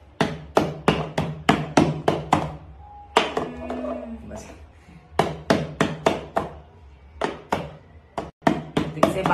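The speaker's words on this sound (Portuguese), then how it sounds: "A gente tem que bater a vasilha" Hands slap a bowl quickly and repeatedly during an egg game, making rhythmic knocking thuds close by. A short pause in the middle carries faint voices and other sounds before the rapid hitting resumes.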